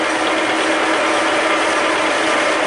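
An experimental fly cutter machines steel on a rail anvil with a dense, continuous rattling chatter, loud and close, steady for the whole stretch with no voices.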